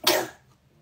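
A single short, explosive sneeze, close and loud, dying away within half a second with nothing else around it.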